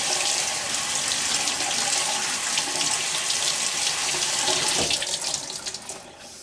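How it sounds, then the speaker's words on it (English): Kumquats rinsed under a running kitchen tap, a loud continuous stream of water splashing into the sink that thins and tapers off near the end. "But just kind of rinse them,"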